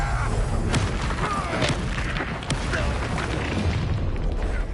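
A Confringo fire spell blast from the Hogwarts Legacy video game, heard as dense, continuous booming and bursting effects with sharp transient pops throughout, loud and busy game combat audio.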